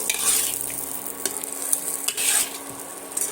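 Potatoes with spices are stir-fried in a pan with a spatula: a close, steady sizzle with repeated scraping sweeps and a few utensil clinks, and no talking.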